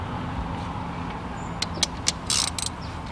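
A ratchet wrench loosens the 10 mm valve cover bolts on a Lexus engine, with a few sharp clicks and short bursts of ratcheting over a low, steady background hum.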